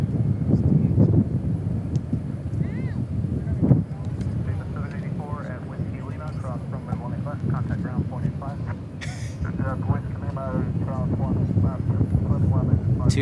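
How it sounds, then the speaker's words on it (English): Two Boeing 777 airliners passing at DFW International Airport, a broad steady engine roar with rising whine tones, heard at a distance under ongoing commentary and wind buffeting on the microphone. "Two 777s passing in the night."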